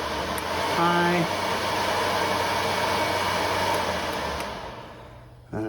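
Vintage Air heater blower fan in an FJ40 Land Cruiser, a steady broadband whoosh of moving air that runs loud and continuous, then drops off near the end when the fan stops, with a brief click right after.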